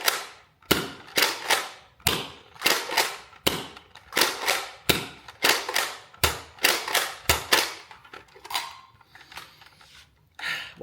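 A modded toy dart blaster fires in rapid succession, a dozen or so sharp close snaps each followed by a brief mechanical rattle, spaced under a second apart and then tapering off.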